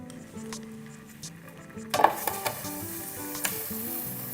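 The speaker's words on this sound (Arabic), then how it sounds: "كيتقلى مزيان" Food fries in a pan with a loud, continuous sizzle that surges sharply partway through, joined by a few clinks of a utensil against the pan.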